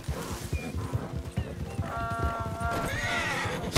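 A donkey in the Red Dead Redemption 2 video game clops along in quick hoofbeats and gives a drawn-out whinnying bray, heard close and loud while someone talks over it.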